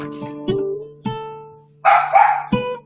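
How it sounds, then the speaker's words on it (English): Dogs in a home bark loudly and close by, several sharp yaps at irregular intervals, with a short burst of whining yelps just before the last bark. "I'm going to give the dogs a treat"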